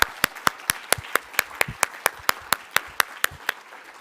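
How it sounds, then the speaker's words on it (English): An audience at the Mainframe Awards 2022 claps in a steady, evenly spaced rhythm of sharp, loud claps over a low room murmur for about four seconds. "So please, massive round of applause."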